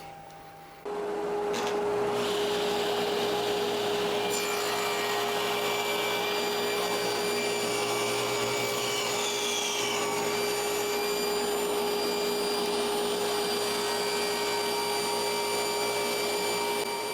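Table saw starting up and ripping a board guided by a jig, a sudden loud steady motor whine with a high tonal hum that holds on as the blade cuts through the wood.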